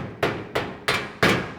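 Four sharp metallic hammer taps drive a pin into a steel OmniWall pegboard shelf, evenly spaced and close, each strike ringing briefly before the next, with no talking.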